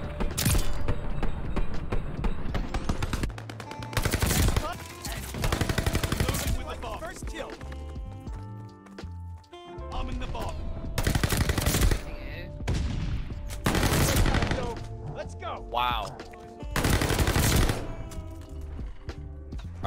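Akimbo Marco 5 submachine guns fire in loud, rapid sustained bursts during a Search and Destroy match, separated by brief pauses, while players talk over the shooting.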